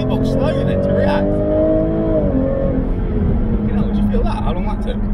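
Jaguar F-Type 400 Sport accelerating hard, a steady loud engine drone rising in pitch across the pull with a slight gear-change dip, heard from inside the car under a voice.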